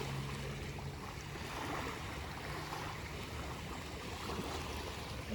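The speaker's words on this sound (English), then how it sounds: "And you can hear the water lapping" Water lapping and washing against a small-pebbled rocky shore outdoors, a soft continuous wash with gentle surges under faint wind, no talking.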